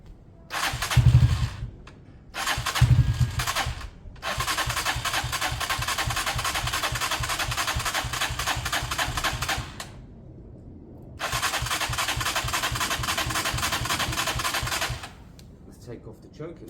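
Worn old Lexmoto motorcycle with parts missing and choke on, cranking through two short starter bursts, then catching and running roughly in two sustained stretches separated by a brief stall; close and loud.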